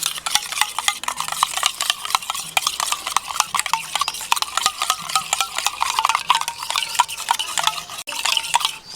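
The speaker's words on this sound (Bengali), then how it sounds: "এবার আমি একটি অন্য বাটির মধ্যে টক দইটাকে নিয়ে খুব ভালোভাবে ফেটে নেব।" Sour yogurt is beaten briskly in a bowl, giving continuous wet, rhythmic stirring and clinking close up, with no talking.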